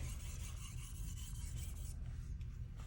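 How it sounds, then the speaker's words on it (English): An Anryu gyuto kitchen knife is sharpened on a Sharon 2k whetstone, a continuous close gritty rasp of steel rubbing across wet stone, steady in level for about three seconds with no voices. "this is pretty typical of how I'll sharpen a knife"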